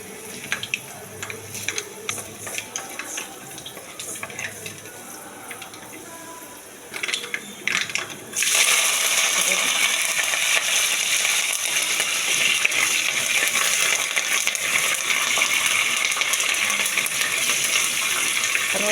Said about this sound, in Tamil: கொஞ்சம் வெந்தயம் பொரிஞ்சிட்டு கடுகு லைட்டாக